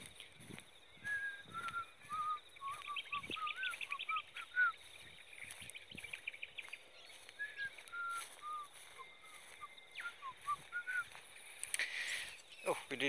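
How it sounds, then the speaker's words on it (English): Repeated short chirping calls and whistled phrases from a finch, fairly faint and recurring in bursts against a quiet outdoor background. "It's a bird call."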